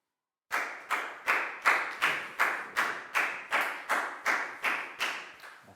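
Twelve even, evenly spaced claps ring out one after another in a slow, deliberate rhythm, loud and close, like a class clapping together in unison for a student.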